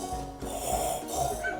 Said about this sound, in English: I've noticed that I have a lot of heavy breath.